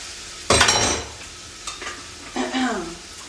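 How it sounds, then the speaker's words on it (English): Chili spices sauté in a pot with a loud sizzle that bursts in suddenly, then fades and returns, with scraping stirring noises in between. "I like to saute the spices is what I'm trying to say before I put them in there"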